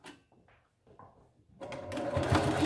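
Sewing machine top stitching along the edge of a reversible fabric face mask, starting with a few short stop-start bursts, then running steadily and loudly near at hand.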